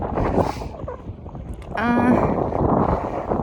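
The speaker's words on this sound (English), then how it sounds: "I know it's not really fun to listen to a video with wind on it" Heavy wind buffeting the microphone, a loud low rumble throughout, with a brief harmonic whine or voice-like sound in the middle.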